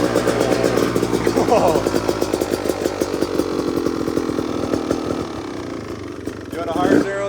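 A 2026 Beta 350 RX two-stroke dirt bike engine fires on its first start and settles into a loud, raspy, buzzing idle close by, while a voice briefly exclaims over it.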